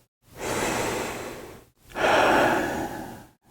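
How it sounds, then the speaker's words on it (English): Two slow, deep breaths, each a long airy inhale-exhale lasting over a second, close and clear with short pauses between and no talking. "Take a deep breath with me."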